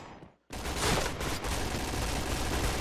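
Gunfire in a shooting video game: after a brief hush, a loud, dense burst of rapid shots erupts and continues as a sustained volley to the end.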